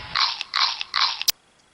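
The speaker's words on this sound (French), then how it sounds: "Frosty de Kellogg's, tigrement croustillant." Kellogg's Frosties cereal crunched in three quick rhythmic bites, loud and close, followed by a sharp click.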